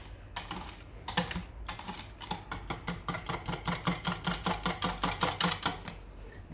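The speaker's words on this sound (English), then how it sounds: "I'll whisk them again." Eggs and milk being whisked in a litre jug for bread and butter pudding, a fast, steady clatter of strokes that runs continuously, close up and fairly quiet.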